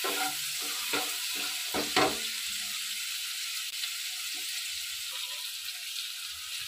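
Prawn poppy seed paste with a little sugar is stirred in a pan, with a few quick scraping strokes of a spoon over a low, constant sizzle, close and without talk.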